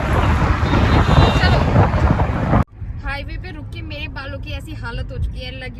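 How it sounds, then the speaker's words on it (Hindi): Strong wind at a roadside stop on the Delhi–Meerut Expressway roars and buffets the microphone loudly for the first few seconds, then cuts out abruptly as a person starts talking over a quieter background. "इतनी तेज हवा है ना, इतनी तेज कि मैं क्या बताऊँ"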